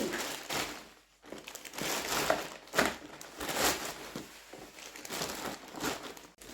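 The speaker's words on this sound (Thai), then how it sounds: "เดี๋ยวใส่ถุงพลาสติกแบบนี้" Chili seeds are tipped into a crinkly plastic bag, with several bursts of close rustling and crumpling plastic spread across the clip.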